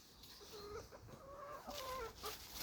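Hens cluck softly outdoors among leaves in spring, a few faint, scattered clucks and calls at a distance.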